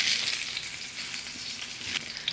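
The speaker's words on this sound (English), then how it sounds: "These can go right into your skillet." Two big white onions, sliced about a quarter inch thick, sizzle steadily in hot oil in a skillet, a continuous close crackle with no voices.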